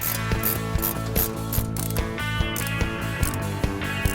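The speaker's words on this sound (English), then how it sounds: "Tighten the upper knuckle nut and the clevis bolt." Rapid ratchet clicking close up as an upper knuckle nut and clevis bolt are tightened on a Jeep Grand Cherokee suspension during a shock and strut job, steady repeated pawl ticks with brief pauses and no talk.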